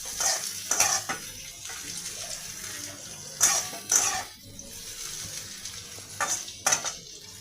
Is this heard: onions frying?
yes